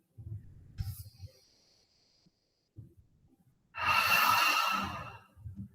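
Slow, deep breathing during a guided relaxation exercise: a soft, airy exhale swells for about a second, with faint low breath noise and quiet stillness around it.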